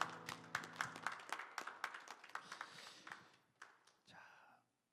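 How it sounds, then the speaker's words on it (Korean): A church congregation applauds together during an early-morning Holy Week prayer service, a burst of scattered, fairly faint claps that thins out and stops after about four seconds. "살아계신 하나님 아버지께 큰 박수로 영광을 올려드리겠습니다."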